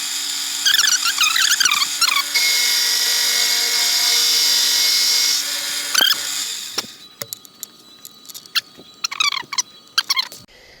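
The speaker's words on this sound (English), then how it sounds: "I'm going to take one of my long end mills. I'm just going to shave that down, get a nice matting surface." Long end mill shaving down a metal part to a flat mating surface for a homemade side-by-side's steering and front shock mounts: a steady loud whining cut with squealing tones for about six seconds, then scattered clicks and clanks as it stops.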